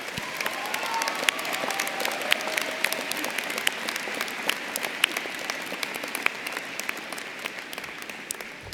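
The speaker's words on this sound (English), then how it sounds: "Could we please give a huge round of applause to all the moms out here?" A large outdoor commencement audience at an engineering college graduation applauding the mothers present, sustained crowd clapping with scattered sharp individual claps standing out, steady and moderately loud for nearly nine seconds.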